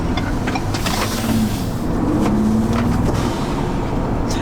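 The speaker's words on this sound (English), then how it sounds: "that blow-off valve sounds awesome" A Ford Bronco's small V6 engine fitted with a blow-off valve, revving steadily and loudly up close for several seconds, with a continuous rumbling drone from the cabin.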